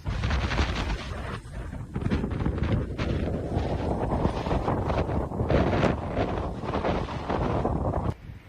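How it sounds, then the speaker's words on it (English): Wind gusts of about 50 mph roar and buffet the microphone on a sunny trail in a constant, heavy rumble that surges and eases slightly, with no voices. "the winds are incredibly high."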